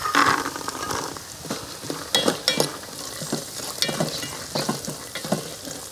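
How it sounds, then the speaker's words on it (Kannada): Chopped ginger, onion and soaked peas sizzle in a hot pan for a pulao, with repeated scraping stirs of a spoon punctuating the steady close frying hiss. "ಶುಂಠಿ ಹಾಕಿ ಬಳ್ತೇನೆ ಸ್ವಲ್ಪ ಕೊಚ್ಚಿಟ್ಟಂತ ಶುಂಠಿ ಮತ್ತು ನೀರುಳ್ಳಿ ಇನ್ನೀಗ ನೆನೆಸಿಟ್ಟಂತಹ ಬಟಾಣಿ"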